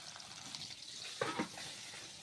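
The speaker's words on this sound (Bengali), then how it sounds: "দেখুন আমার মাছটা ভাজা হয়ে গেছে" Fish frying in a kadai, a faint steady sizzle with a brief burst of spatula clatter partway through, heard close and without speech.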